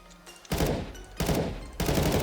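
Gunfire from a purchased gun in Minecraft, heard as three loud bursts of rapid shots, each about half a second to a second long, separated by short quiet gaps.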